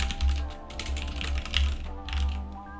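Keys on a computer keyboard clack in quick, uneven bursts of close taps over a low steady hum, with short pauses between runs of typing.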